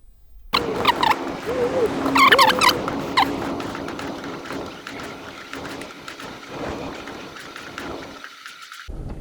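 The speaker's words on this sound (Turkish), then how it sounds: "Şimdi böyle kuşbaşı kesiyorum tavuk göğsünü" A knife taps and chops steadily against a cutting board, cubing chicken breast in a camper van, in a quick, uneven rhythm, close by, with a voice talking briefly at the start.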